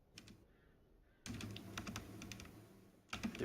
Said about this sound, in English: I'm typing on these yeah, I can tell.